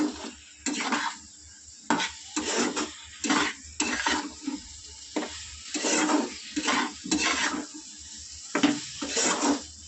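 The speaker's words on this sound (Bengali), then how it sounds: "এবারে কষিয়ে কেটে রাখা আলুটা দিয়ে দেবো" Cut potatoes stir-fried with spices in a pan for a fish head curry: repeated scraping stir strokes over a steady sizzle, in close bursts with short pauses, no talking.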